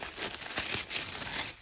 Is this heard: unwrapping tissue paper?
yes